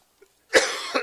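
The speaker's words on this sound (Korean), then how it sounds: "비염 때문에 기침이 계속 나는 것 같아요" One sharp, close cough from a man with rhinitis, a short wet burst with a smaller follow-up at the end, alone in a quiet room.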